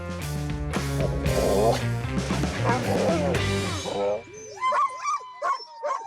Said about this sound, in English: Jenny Rodewig arrives with her dogs